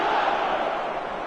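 A stadium crowd in a football video game roars steadily, a dense continuous wash of cheering that stays loud for the whole moment.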